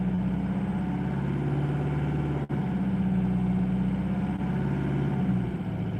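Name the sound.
damaged car engine running at 1600 to 1800 RPM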